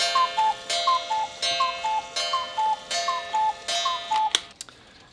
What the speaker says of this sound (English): when you want the clock to call again, you pull that lever down, and it again counts the time, this time 9 times for 9 o'clock